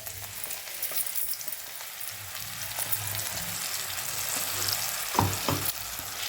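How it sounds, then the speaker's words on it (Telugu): Ground masala paste hits fried onions in a pan for an egg curry, giving a continuous close sizzle with stirring scrapes and a couple of sharper clatters near the end. "ఈ మసాలా ముద్దని మనం ఉల్లిపాయలు వేగిపోయి కదా ఇందులో వేసుకుందామండి"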